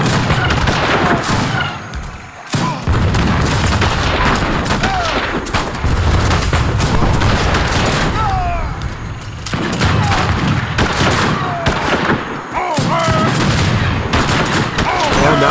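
Hand mortars firing in Age of Empires 3: Wars of Liberty, with repeated booming blasts and crackling gunfire in a dense, loud, continuous battle din, and a voice talking over it.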